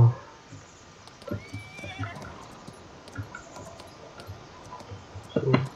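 Horse neighing and whinnying alongside clip-clopping hooves in the Farming Simulator 19 video game, several loud whinnies with hoof clatter throughout, ending in a sharp close whinny.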